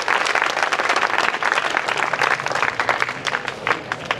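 A crowd at a formal community gathering welcomes someone with vigorous applause, loud and sharp clapping from many hands blending into a dense, continuous roar that holds steady for several seconds.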